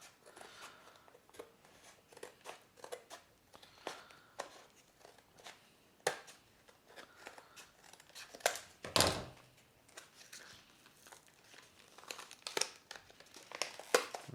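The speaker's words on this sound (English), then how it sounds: "So enough talk, let's just open the box." Packaging of a SureFire 6PX tactical flashlight being opened, with crinkling, tearing and cardboard handling sounds, scattered soft thumps and a louder burst of rustling midway, close and fairly quiet with no talking.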